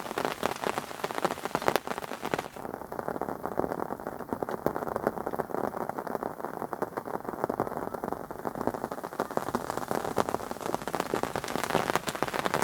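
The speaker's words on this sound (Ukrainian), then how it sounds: "дощик іде" Steady rain pours down outdoors during a thunderstorm at a fishing spot, a dense, loud and continuous patter of drops on surfaces throughout, with no voices.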